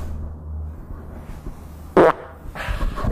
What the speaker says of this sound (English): It's gonna fart.